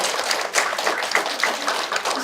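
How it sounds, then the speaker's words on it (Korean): Parents at a school admissions information session give a short round of applause, a moderate patter of scattered claps lasting a couple of seconds. "다시 한번 박수 한번 보내드릴까요?"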